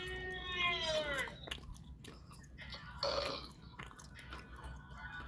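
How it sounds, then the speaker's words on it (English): A person burps audibly, one drawn-out belch near the start, another short one a few seconds later, set against low room noise and quiet chatter among friends, fairly close but soft overall. "Stop burping, you're a pig."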